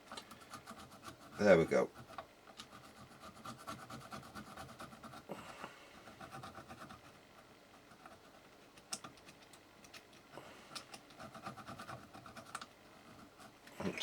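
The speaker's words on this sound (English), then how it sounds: "Let's see if I can scrape." A tool scrapes at a part of a Sony ICF-PRO80 radio under repair, giving quiet, intermittent scratchy strokes with a louder burst early on, and a person briefly speaks.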